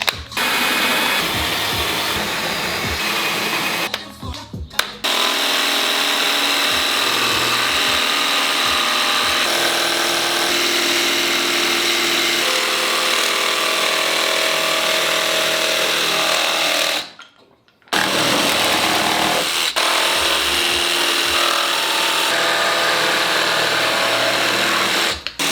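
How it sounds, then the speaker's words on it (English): A jigsaw cuts sheet material for a third-gen Camaro dash pad, running loud and close in a long continuous buzzing rasp, stopping briefly twice before starting up again. "Let's get the jigsaw and start cutting this out."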